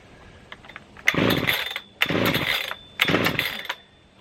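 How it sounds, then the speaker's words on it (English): A Husqvarna 3120XP chainsaw is pulled three times, each pull bursting into a brief rough sputter that dies away without catching, with short quiet gaps between the attempts. "this is a brand new chainsaw and it's not starting on me"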